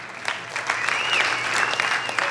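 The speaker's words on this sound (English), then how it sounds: "Could best be described as lukewarm applause" Scattered, half-hearted applause from a roast audience, steady but thin clapping across a couple of seconds without cheering.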